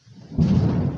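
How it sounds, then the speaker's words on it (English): Thunder breaks in a sudden deep rumble after a brief quiet swell, then holds as a dense, rolling boom for the rest of the moment, with no voices over it. "Yes, it's thundering here."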